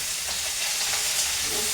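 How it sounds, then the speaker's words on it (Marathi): Fenugreek greens dropped into onions frying in a pan, giving a steady close sizzle and crackle of oil with soft stirring, no voices. "थोडा कांदा लालसर झाला तर मग छान भाजी टाकून घेते आता."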